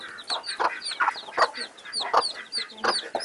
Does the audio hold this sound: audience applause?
no